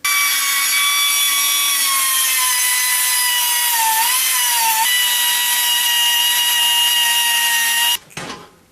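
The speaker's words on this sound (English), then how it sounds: "I whiz wheeled them flat with the metal" A cutoff wheel grinds rivets flat on a solenoid relay, giving a loud, steady, high-pitched whine for about eight seconds before it cuts off abruptly. No one speaks.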